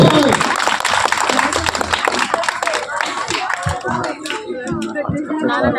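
A crowd claps energetically at a spring festival event at a Shiva temple, a dense burst of applause that thins toward the end as voices speak over it.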